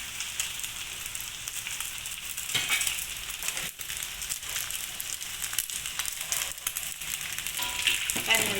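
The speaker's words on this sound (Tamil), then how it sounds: "நல்லா சூடான எண்ணெயில் பொரிச்சா தான் நல்லா முறுமுறு முறுன்னு வரும் நெத்திலி பொடி." Anchovies fry crisply in hot oil for nasi lemak, giving a steady, close crackling sizzle with small pops throughout and no talking.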